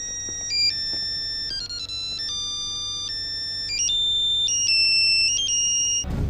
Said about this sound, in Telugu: సార్, డార్లింగ్ గారు ఫోన్.